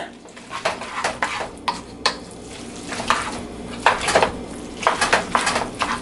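Noodles tossed with sauce in a pan on a home stovetop: utensils clatter and scrape against the pan in irregular bursts over a soft sizzle, loud and close, with no talking.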